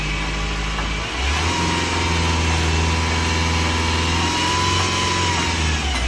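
A Ford Figo diesel engine runs steadily with a loud, close, low droning hum that shifts slightly in pitch just after the first second, then holds even; no talking.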